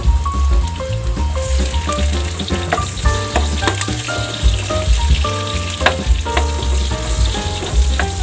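Garlic frying in a pan for Ilocano pinakbet cooked the traditional way, a loud dense sizzle and crackle running throughout with scattered sharp pops, close up and without speech.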